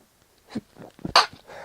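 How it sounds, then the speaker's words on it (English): A single sharp sneeze bursts out near the end after a few soft breathy sounds and a short intake, close and fairly loud. "oh, sorry, I had a sneeze there"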